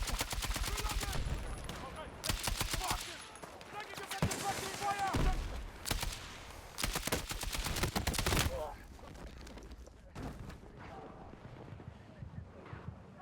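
LMG machine gun in Battlefield 6, several long rapid bursts of automatic fire that stop and restart, loud and close, then quieter scattered shots with talk over the action.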